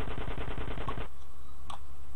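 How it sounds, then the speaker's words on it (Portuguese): Rapid automatic gunfire in GTA San Andreas on PS2 rattles in a fast, dense burst for about a second, then cuts off, leaving low background hum and a faint click. "Ó, dá um tiro na perna do cara ali já."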